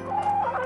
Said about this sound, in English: Why are these chickens inside my house?